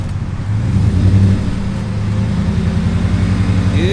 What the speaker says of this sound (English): Back wheel spinning a little bit.